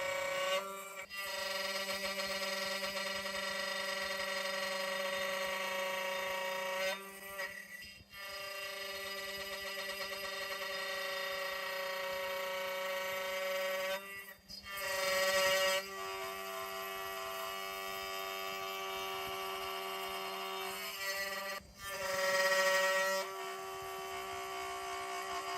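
Genmitsu PROVerXL 6050 Plus CNC router milling 6061 aluminum, giving a steady, piercing spindle whine rich in tones, broken by a few brief dips and short pauses, heard alone.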